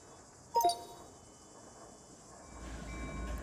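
A train arrives in Run 8 Train Simulator, a faint rail rumble with a brief tonal horn-like blast near the start and a low rolling rumble building toward the end.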